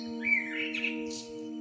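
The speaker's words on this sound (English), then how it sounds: "The blackbird's bedtime note." Blackbird in a garden by a fence giving a low, settling bedtime call, a soft chirping note rising briefly then fading, heard faintly over a steady background hum.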